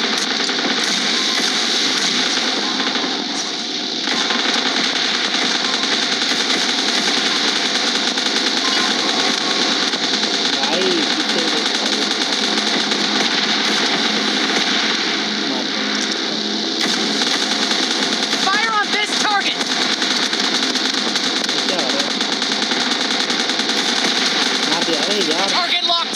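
Sustained, dense gunfire from PUBG Mobile, with rapid automatic bursts running almost continuously at steady loudness, and voices talking over it throughout.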